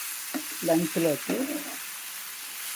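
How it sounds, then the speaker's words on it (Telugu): Okra (bendakaya) fries in a pan with a simple tempering, giving a steady, even sizzle throughout while one short spoken phrase comes partway through. "బెండకాయ వేపుడు చేస్తున్నాను"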